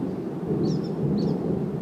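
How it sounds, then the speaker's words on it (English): Thunder from a strong thunderstorm in Hoover, Alabama rolls as a loud, steady, deep rumble that fills the whole moment, with no talking. "This is an excellent bang and booming of thunder"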